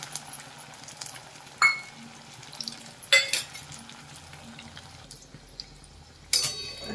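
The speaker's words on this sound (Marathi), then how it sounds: "आपण तेलामध्ये मध्यमाचेवर फ्राय करून घ्यायचं" Cutlets made from leftover chapati and rice fry in oil over medium heat, giving a steady soft sizzle broken by a few sharp utensil clinks against the pan.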